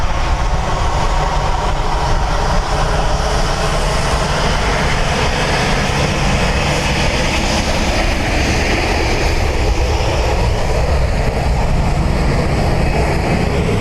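A loud, continuous roar of jet engines fills the air at Dublin Airport, steady and broad, with a faint whine riding on top and no voices.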